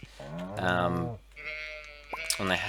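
Sheep in the farming game Stardew Valley bleat twice in close succession, loud and near, with long wavering calls separated by a short pause and a brief click between them.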